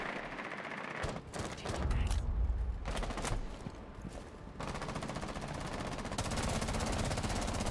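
Rapid automatic gunfire in Rainbow Six Siege, sustained bursts that swell into long continuous streams of shots, loud and close, with short gaps and a brief scrape of movement between volleys.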